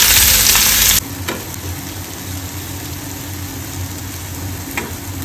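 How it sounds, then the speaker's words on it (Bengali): Egg bhurji with chopped onion and green chilli sizzles in a pan, opening with a loud, bright hiss that settles into a steady, softer frying crackle with occasional small pops, close by and without talk. "এবারে ডিমের ঝুড়িটা রান্না করি।"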